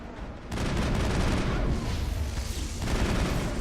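Mako tank cannon shots striking an armature in Mass Effect 1: a loud, continuous barrage of booming gunfire and blasts that fills the whole stretch with heavy rumbling impacts.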